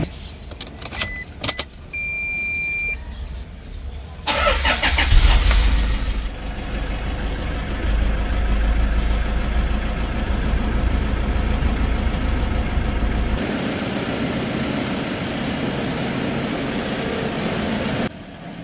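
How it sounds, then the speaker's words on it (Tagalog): A 2015 Toyota Fortuner G with a 2.5-liter turbo engine idles steadily and smoothly, a low continuous rumble. A brief metallic jangle of keys comes early, then the engine hum runs on with no talk. "yung kanyang engine bay, stable yung idling, makinis umandar, matining umandar, walang palya"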